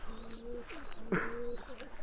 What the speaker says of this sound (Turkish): Güvercinlerim ne haber?